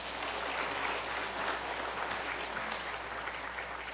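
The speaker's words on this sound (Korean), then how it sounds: "박수로 축하하겠습니다." Celebratory applause from a church congregation at a Sunday morning service, an even, continuous patter of many hands clapping at a moderate distance, steady for the whole moment with no talk.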